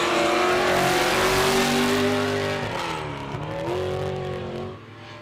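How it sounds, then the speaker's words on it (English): A race truck engine roars loud and close as it launches off the start line at the Finke Desert Race in Alice Springs, revving hard through rising gear changes before the sound dips and eases away. "Off and racing the Robinson truck"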